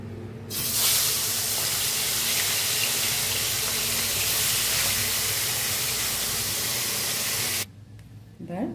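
Fish frying in hot oil, a loud, dense hiss that bursts in suddenly and holds steady for several seconds before cutting off abruptly, followed by a brief quiet moment.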